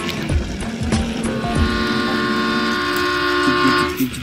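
A toy Thomas train running along a plastic toy railway track, a steady close mechanical whir and rattle with a sustained tonal hum and horn-like tones layered throughout.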